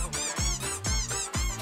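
Rubber squeak-duck toy sounds in a Beat Saber game stream, several high, harmonic squeaks with falling tails repeating in a quick rhythm, loud and close with no talk over them.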